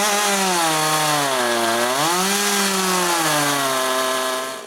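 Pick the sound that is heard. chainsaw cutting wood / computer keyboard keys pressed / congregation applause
chainsaw cutting wood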